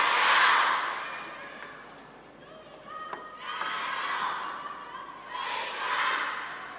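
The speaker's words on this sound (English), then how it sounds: "Swinging Xia getting a little bit of fan action here from the crowd. Nice to hear." A crowd of fans cheers and chants in swelling waves at a women's table tennis match at the 2017 China Open, with ball bounces and sharp knocks breaking through the roar.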